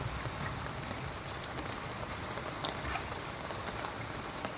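Steady rain patters on garden plants and flowers, a soft continuous hiss with scattered crisp droplet ticks, fairly faint and without talk.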